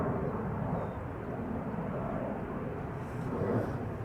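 Ryanair airliner at Amsterdam Schiphol Airport: a steady, broad jet roar holds constant throughout, moderately loud and seemingly some distance off, with no speech over it.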